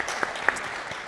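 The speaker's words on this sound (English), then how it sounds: "feel free to have a round of applause at any stage that you need to" Sparse applause from a symposium audience at a higher education summit, a thin scattering of individual claps with a couple of sharper hits, brief and fairly quiet.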